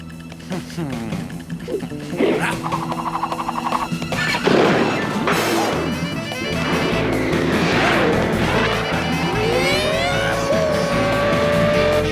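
A speeding cartoon car races to beat a speed record, its engine revving and roaring loudly, with tire squeals, skids and crashing impacts layered over busy animated effects and music.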